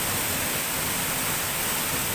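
Mandayao Waterfalls at La Castellana, Negros Oriental, a loud, steady, broadband roar of falling water that fills the whole clip without a break and with no voices.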